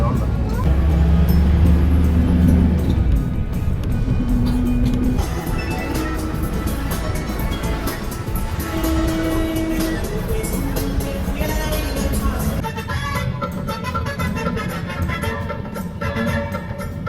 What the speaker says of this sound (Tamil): இங்கே வந்து டிராஃபிக்காக இருக்கும்